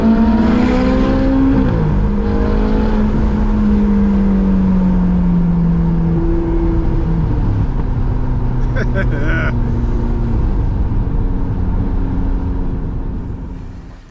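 A Dodge Challenger's engine rumbles loudly and steadily throughout, with rising and falling revs, and voices talking over it.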